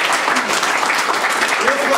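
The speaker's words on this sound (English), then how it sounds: "So a big round of applause for those guys." A conference audience gives sponsors a burst of applause, a full, steady wash of many hands clapping close by, with some voices mixed faintly into it.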